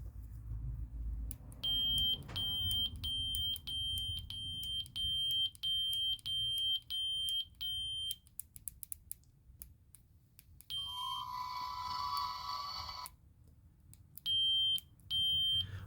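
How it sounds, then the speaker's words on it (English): Repeated high electronic beeps in short regular bursts, pausing, then a harsher buzzing tone and a few more beeps, with no talking. "that beep gets louder when I go higher"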